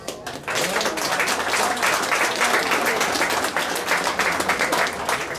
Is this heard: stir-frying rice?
no